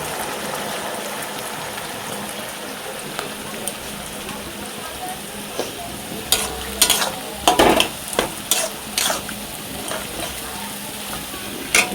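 Soybean greens are stir-fried with turmeric in a pan, giving a steady low sizzle with scraping stir strokes that sharpen into a cluster of louder clatters near the end.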